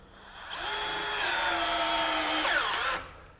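Ryobi HP One+ right angle drill boring a 1.5 inch hole through stacked 2x4s, a motor whine that spins up, holds under load for a couple of seconds, then winds down; close and clear with no talking.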